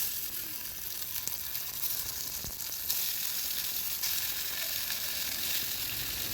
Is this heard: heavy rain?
no